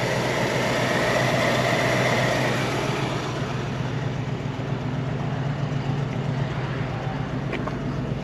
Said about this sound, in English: The engine sounds very good, nice and smooth. It's running very well.